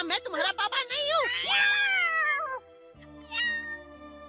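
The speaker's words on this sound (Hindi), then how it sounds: "बिल्ली इनकी है, तो इसे इनके साथ जाना होगा।" A cartoon cat meows loudly and insistently, several drawn-out wavering cries close up, mixed with a character's speech and a background music bed.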